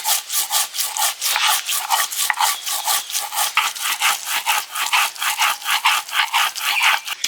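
Garlic and onion are ground into paste by hand on a grinding stone, making a rhythmic, rasping scrape that repeats in quick, even strokes, close and alone.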